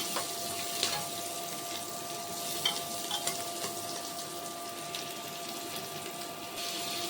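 Onions with a pinch of sugar fry in a pan, a steady low sizzle broken by occasional scraping stirs and small clinks, with a faint constant hum underneath.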